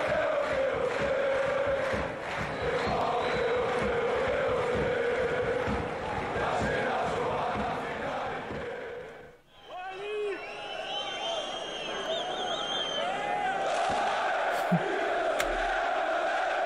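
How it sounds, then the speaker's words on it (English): Greek football supporters in a stadium chanting and clapping in unison, a loud, dense crowd roar with rhythmic claps that cuts out briefly and then returns, with some voices talking over it. "They all clap on cue."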